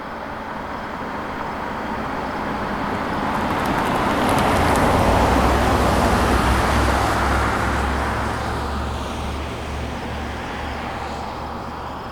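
A 1987 Mercedes 560SL with an automatic transmission drives along steadily, a continuous road and engine rumble swelling in the middle and easing again, heard from inside with no talk.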